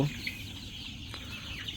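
Hens cluck softly and steadily on a poultry farm against a constant background hum, with a few brief chirps rising over the low barnyard murmur.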